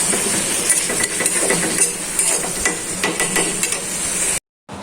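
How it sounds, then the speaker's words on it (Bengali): Spices with onion and chilli sauté in a pan, a close, steady sizzle broken by scraping and clinking stirs, then a brief dropout before the sizzle returns. "মশলার সাথে পেঁয়াজ মরিচের সাথে কষিয়ে নিচ্ছি"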